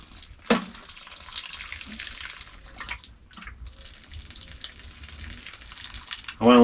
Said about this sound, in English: I need a new watering can. It drips more out the back than the front.